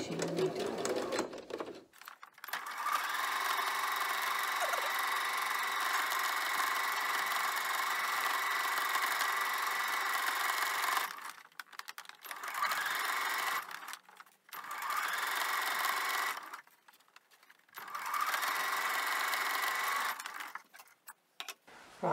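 A sewing machine stitches a pom-pom trim scrunchie in steady, loud runs of whirring motor noise, stopping and starting several times with short pauses between bursts.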